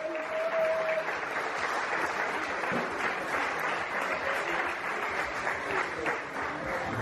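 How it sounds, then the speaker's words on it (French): An outdoor crowd applauds a mountain bike race podium at Isola 2000, giving steady, moderately loud clapping for several seconds with faint background voices mixed in. "Le podium décalé sur vos applaudissements, mesdames et messieurs."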